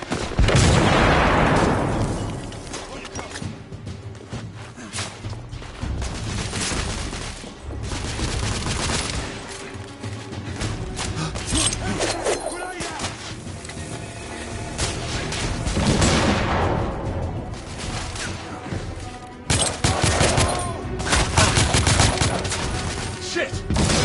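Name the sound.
heavy gunfire in video game The Order: 1886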